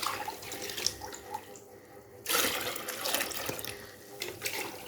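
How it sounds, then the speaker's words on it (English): Water is poured into a one-liter measuring bowl while preparing liquid soap, a faint steady trickle that turns into a louder, fuller pour partway through. "So let me measure out some of the water."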